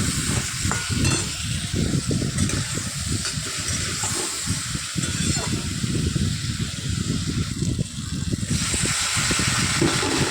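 Duck egg curry masala stir-fried in oil with a splash of water, a dense steady sizzle and hiss with scraping spatula strokes throughout, loud and close.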